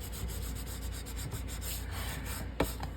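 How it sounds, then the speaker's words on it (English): A burnishing tool rubs back and forth over glued journal paper, producing steady close papery scraping strokes in a regular rhythm, with one sharper tap near the end. "that's what this burnishing tool is helping me do, is moving that glue to the edge"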